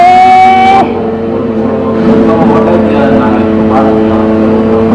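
A car races in a video game, its engine tone humming and shifting pitch as it drives, loud and close, while people talk over it.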